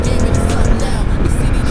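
An Indian FTR Sport motorcycle engine revs hard under acceleration, a loud, close, rough roar with rising throttle pulses and wind rush, and a rider speaking over it.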